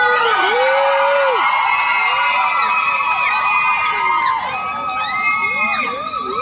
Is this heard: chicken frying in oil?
no